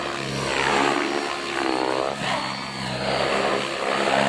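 Electric RC helicopter motors and rotors in hard 3D flight, a loud continuous whirring buzz with swelling and dipping pitch as the aircraft throws aggressive manoeuvres nearby.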